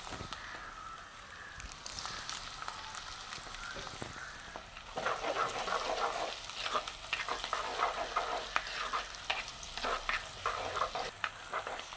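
Curry leaves and onions sizzling and being stirred in hot oil for a dried fish curry, a soft frying hiss that grows busier midway, with scraping stirs over the crackle.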